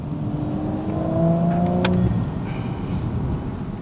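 A 2018 Audi RS5 engine hums steadily, rising briefly in a smooth rev before easing back, heard from inside over a constant low rumble.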